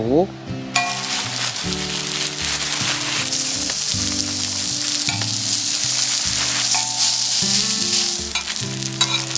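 Steady, loud sizzle of food frying in a lightly oiled pan at a cold campsite, continuous crackling hiss throughout with no talking.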